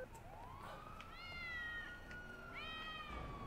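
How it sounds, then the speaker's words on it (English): A cat in GTA V gives several rising and falling meows, clear and fairly close, over a steady background hum with no talking. "Hi, kitty cat."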